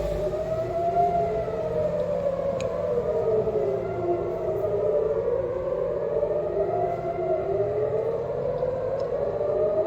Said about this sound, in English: I hope you can hear the sirens